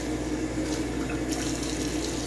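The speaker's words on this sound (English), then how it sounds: "We're going to have some hot water running." Hot water runs steadily from a kitchen tap into a container while chamomile tea with honey, lime and sugar is being mixed, a constant close gush lasting a couple of seconds with no talking.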